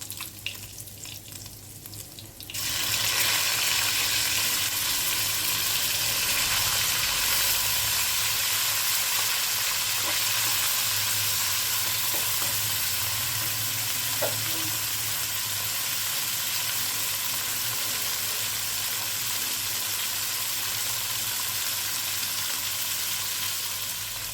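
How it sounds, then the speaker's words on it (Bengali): After a quiet first two seconds, a loud, steady sizzle of snakehead fish frying in oil fills the rest, close up and constant, with a few faint utensil taps and no talking. "এইভাবে আমি আস্তে আস্তে সবগুলো মাছকে ভেজে নেব।"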